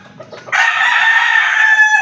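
A rooster crows loudly and close by, one long sustained call after a brief rustle.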